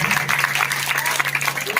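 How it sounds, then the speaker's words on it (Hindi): Sustained clapping from an audience at a village Ram Lila performance, steady and moderately loud with a constant low hum running underneath throughout. "कुंभकर्ण के नाम से भी ताली बजना चाहिए।"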